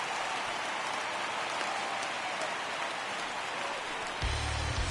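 Rain falls steadily during a ballgame in MLB The Show 19, an even hiss of drops that stays constant, with a low hum entering near the end.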